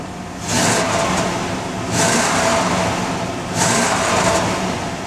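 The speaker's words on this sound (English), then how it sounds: "I'm going to rev the motor up for you real quick just so you can hear it" Chevrolet Z71 truck with a small block engine revving in three strong bursts, each rising and falling back toward idle, loud and close with no talking.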